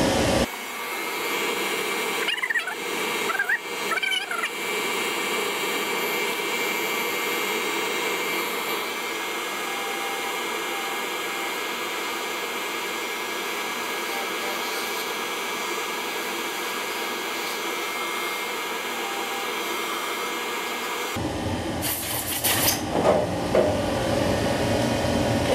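A power sander with medium grit sands cork during leather heel soling work, giving a steady, loud whirring hiss that runs for about twenty seconds before stopping abruptly, with no talk.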